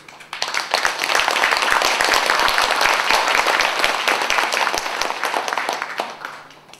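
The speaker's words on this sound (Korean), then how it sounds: "바로 이분한테 여러분 큰 박수를 한번 쳐주세요." An audience applauds at a Korean literary award ceremony when a university arts college dean is introduced. Loud, dense clapping from a full hall swells quickly, holds for several seconds, then fades out.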